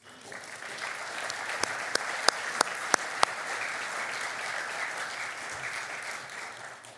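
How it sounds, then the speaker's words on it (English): An audience applauds an honorary alumnus award recipient at a distinguished award ceremony. Steady, even clapping from a room-sized crowd runs throughout, with a few sharp, close claps standing out early on. "Let's please give him a round of applause."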